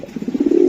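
A racing pigeon coos close by, a short pulsing burble that swells steadily louder into a sustained low note, heard alone.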